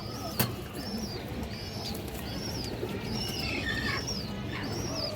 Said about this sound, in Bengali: এটা মাদি কবুতরটা দর্শক